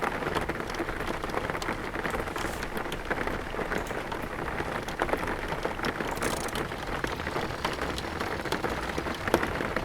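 Rain while driving in the video game Jalopy: a steady, dense patter of raindrops on the car, constant and fairly soft throughout, with no talking.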